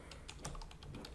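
Computer keyboard typing during a web page-builder menu setup, a rapid run of light, close key clicks at an irregular rhythm, heard alone with no talking.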